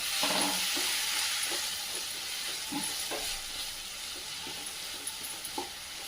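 Potato pieces sauté in a pan, a soft continuous sizzle broken by a series of light scraping stirs from a spatula, close and moderately quiet.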